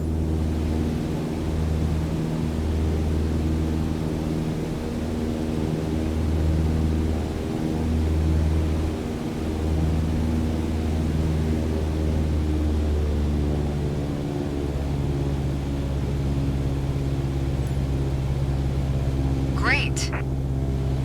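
A single-engine propeller aircraft engine drones steadily at cruise power in a flight simulator game, a loud, even hum with stable tones throughout, with a brief chirp near the end.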